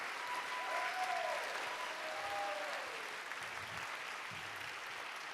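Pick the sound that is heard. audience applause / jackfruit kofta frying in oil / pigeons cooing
audience applause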